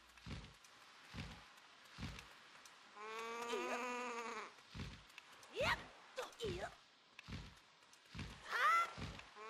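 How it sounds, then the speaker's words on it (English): Birds in the video game The Legend of Zelda: The Wind Waker HD give wavering, sheep-like bleats over steady thudding footsteps, the cries coming in several separate bursts at moderate loudness. "When did those birds sound like sheep?"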